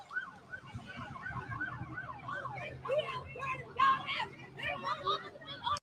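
Police sirens wail in rising and falling sweeps, fairly close, with people talking and crowd noise underneath.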